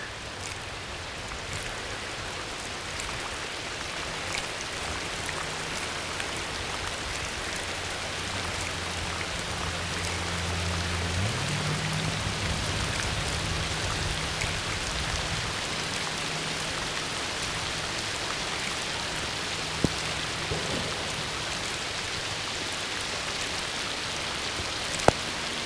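Steady rain falls around an angler out fishing, a dense, even hiss that holds for the whole stretch with no talking and only a couple of small knocks near the end.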